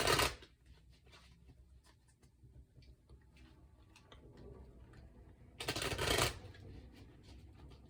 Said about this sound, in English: I'm just going to shuffle a few more times and we'll get started.